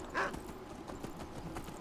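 Horses' hooves clip-clopping in Skyrim, a short, close patter of muffled hoof strikes with a soft chime-like note at the start.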